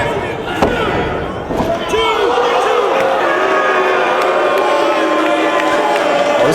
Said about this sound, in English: This crowd's getting ugly.